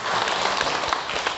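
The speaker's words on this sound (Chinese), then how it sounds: "掌声啊！" A brief burst of audience clapping during a lecture class at a Buddhist hall, dense and fairly loud, with no voice over it.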